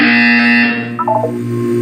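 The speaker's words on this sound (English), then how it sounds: "When you hear the buzzer, look up at the ceiling." A loud, sustained electronic buzzer tone in Portal 2 blares, then breaks into a short warbling, stepping sequence of beeps before the tone continues.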